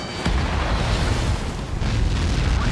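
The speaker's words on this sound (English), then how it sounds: "Warning, missile in the air!" A missile explosion in the Ace Combat flight game: a loud, sustained roaring boom that opens with a sharp onset and rumbles on steadily, with no voices.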